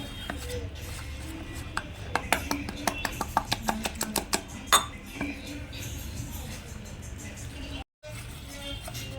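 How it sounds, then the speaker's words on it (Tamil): Rice flour batter being mixed with water in a bowl for sugiyan, a run of close, sharp clinks and scrapes of a utensil against the bowl, busiest early on, then quieter rubbing before a brief silence near the end. "ஒரு கிளாஸ் அவ்வளோ தண்ணி ஊற்றி மிக்ஸ் பண்ணிவிட்டு நல்லா லிக்விட் மாதிரி பண்ணிக்கோங்க"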